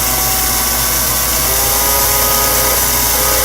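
A homemade security pin lathe spins steadily, giving a loud, continuous motor whine with a faint scraping edge, unbroken throughout the short stretch.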